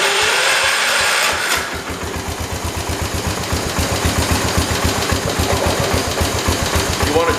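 A 1968 112 tractor with a swapped-in Kohler engine runs close by, settling from a rough start into a steady, loud, rhythmic chugging idle that continues throughout.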